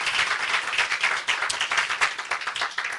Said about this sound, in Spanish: Dale un aplauso al Señor si crees esa promesa de Dios.